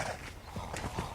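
A horse trots nearby, its hooves clip-clopping in a quick, even rhythm of several beats against a background of outdoor noise.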